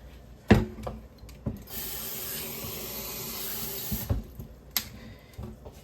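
Water from a kitchen tap runs steadily into a pot to cover cabbage, a hissing pour of about two and a half seconds framed by clunks and knocks of handling, close and fairly loud with no talk.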